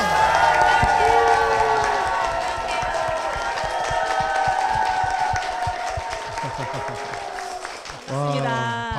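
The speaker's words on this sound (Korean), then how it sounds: "와, 박수 함성으로 뜨겁게 시작을 했습니다." Studio audience clapping and cheering at the opening of a Korean church-feature broadcast, brisk rhythmic claps under music and voices, fairly loud, fading near the end as a voice begins speaking.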